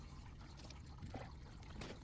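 Water draining from the top tank of a Thereye water appliance: a soft, steady trickle and pour heard close and faint throughout, with no talking.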